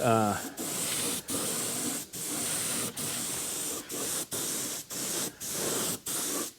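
Spray gun laying a second coat of paint on a windshield frame: steady hissing bursts about a second long, separated by short regular pauses, close and loud.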